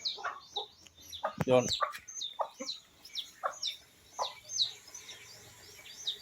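Native Bisaya chickens on a provincial farm cluck and chatter in short repeated calls, fairly faint, with a brief spoken word partway through.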